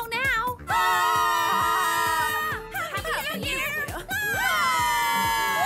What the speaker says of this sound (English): Why are you all screaming?